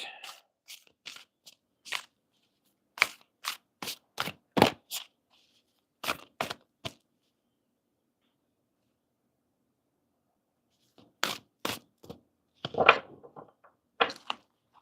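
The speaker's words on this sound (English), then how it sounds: "we're going to shuffle up the cards" Short bursts of crisp riffling and slapping as tarot cards are shuffled, in clusters separated by a long quiet pause, close and fairly soft.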